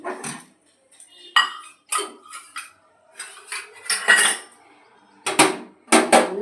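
A metal lid is lifted off a pot of rohu fish steaming inside a green coconut on a gas stove, giving a series of sharp, close clanks and scrapes in short bursts separated by quiet gaps.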